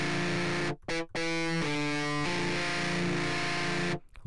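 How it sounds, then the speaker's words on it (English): An electric guitar plays through an amp with a scream distortion effect, giving a loud, buzzing, saturated tone that holds sustained chords, with two short dropouts near the start and a sudden cut-off at the end. "Then you add some good old scream distortion"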